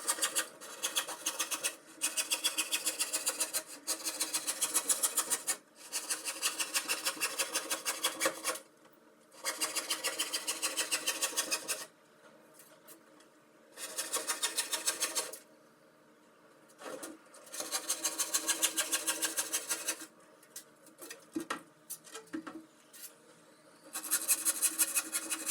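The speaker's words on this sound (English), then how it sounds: "For the top I used a scrap bit of ply that had some cement mixed on it, which is why I'm using a handsaw." A handsaw cuts through a scrap of plywood crusted with cement, loud rasping strokes coming in rhythmic bursts separated by short breaks, with no talk over it.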